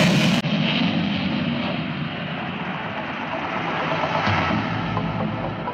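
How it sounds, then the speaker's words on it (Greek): An F-16 with conformal fuel tanks, flown by the Zeus demonstration team at a military parade in Thessaloniki, roars as a broad, steady jet rumble that stays loud and sustained throughout, with no talking. "Το αεροσκάφος της σημερινής επίδειξης φέρει σύμμορφες δεξαμενές καυσίμου"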